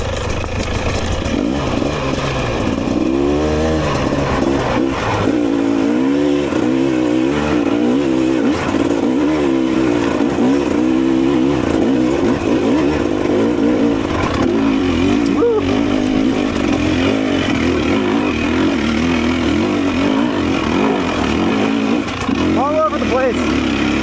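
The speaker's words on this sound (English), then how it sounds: "we got the bike started" A 2026 TE300 dirt bike, whose spark plug seems to be fouling, runs close by for the whole stretch, its engine revving up and down in repeated surges and blipping toward the end.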